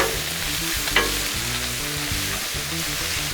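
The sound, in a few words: shrimp cooking on a Blackstone griddle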